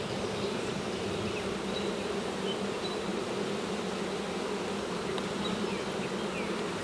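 Honeybees swarming over a hive frame, a dense steady buzzing drone that stays constant and close throughout, with occasional individual bees zipping past.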